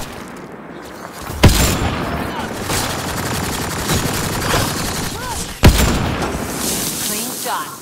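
Gunfire in the sci-fi shooter Mass Effect: Andromeda rattles almost continuously as sustained automatic bursts, broken by two sharp louder shots, with game sound effects layered beneath.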